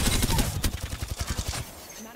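Rapid automatic gunfire in Apex Legends during a fight rattles out as a quick, loud run of evenly spaced shots, then breaks off abruptly near the end.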